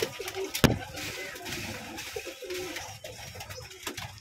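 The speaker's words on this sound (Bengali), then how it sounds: "তো কবুতরগুলোকে এক এক খাবার দেওয়া হচ্ছে।" Pigeons at a farm loft coo and flutter while being given feed, soft overlapping bird calls with a sharp clatter near the start and scattered rustling throughout, fairly quiet.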